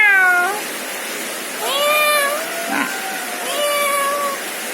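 A pet parrot imitates a cat, giving three drawn-out meow-like calls in quick succession over a steady background hiss of rain.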